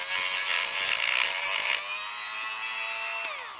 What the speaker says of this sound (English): So again, sand it.